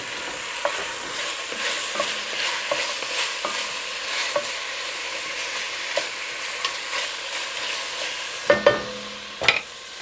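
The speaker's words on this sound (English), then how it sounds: "let's go ahead and give it a stir" Browning meat frying in a pan is stirred, giving a soft steady sizzle broken by scraping strokes and a few louder knocks toward the end, up close and without talk.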